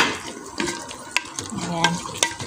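Carrots and potatoes being stirred in a cooking pan for adobong dilaw, with a light sizzle under sharp clinks and scrapes of a utensil against the metal.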